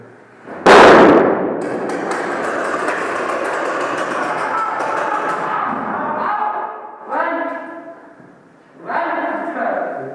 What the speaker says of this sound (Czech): výbuch